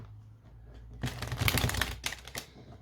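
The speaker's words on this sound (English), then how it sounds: "Right, I will just pull some oracle cards for you both." Oracle cards shuffled by hand close up, a quiet pause followed by a quick burst of crisp riffling and flicking that tapers off after a couple of seconds.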